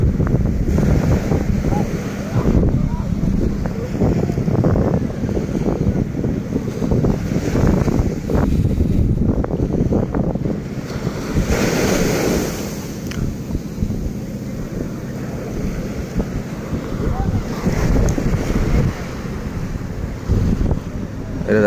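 Ocean surf at La Gamba beach, a dangerous shoreline, with waves breaking and washing in under heavy gusting wind buffeting the microphone; a continuous roar with surges as larger waves arrive.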